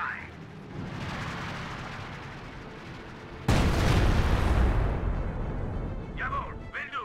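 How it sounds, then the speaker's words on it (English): In a video game, an artillery shell fires and strikes a building: a heavy, sudden boom cuts through steady rumbling battle noise, followed by a long roaring decay, with brief voice fragments near the end. "Yeah, one shell hits the building."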